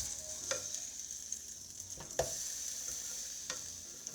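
Just after it is flipped, a jalapeno burger patty sizzles softly in the pan. A steady hiss runs under a few sharp spatula taps and pops, the loudest near the middle.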